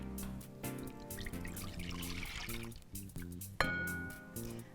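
Soy milk pours into a pot, a close liquid trickle with dripping, gurgling tones over faint background music, and a brief sharper splash toward the end.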